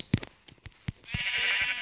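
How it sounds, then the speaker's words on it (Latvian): A brown sheep in Minecraft bleats in several short, close, distinct cries, followed by a higher sustained tone. "Brūna aita."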